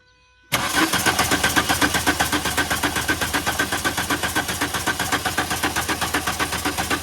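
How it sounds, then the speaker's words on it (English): A Volkswagen Jetta that sat unused for over ten years cranks steadily and continuously with its fuel pump running, a loud rapid rhythmic churn starting abruptly after a brief quiet moment. "that noise sounds like the fuel pump"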